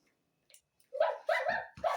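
A small dog barks three times in quick succession, fairly close and loud, after a brief quiet moment.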